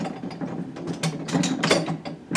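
Clamps are ratcheted tight over a guitar fretboard laid on a neck with scrap plywood, giving rapid clicking and grinding mechanical bursts close by, with no talking.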